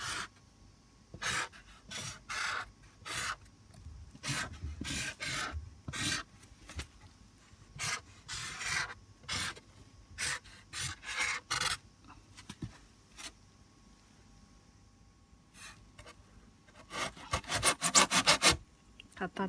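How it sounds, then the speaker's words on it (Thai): Bursts of rasping, scraping noise come as holes are made in the back of a styrofoam box for growing Thai coriander, in short irregular spells with quiet gaps between, clustering densely near the end. "เดี๋ยวต้องเจาะกล่องโฟมก่อนค่ะ"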